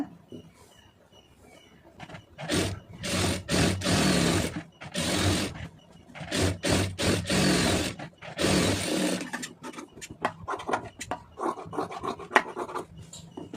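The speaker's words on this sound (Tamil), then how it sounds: "இது வந்து சும்மா இந்த மாதிரி தைச்சி வச்சுக்கிறோங்க" A sewing machine stitching a cotton blouse lining, running in bursts of rapid mechanical whirring of a few seconds each, separated by short pauses, then lighter intermittent clicks, close by and loud.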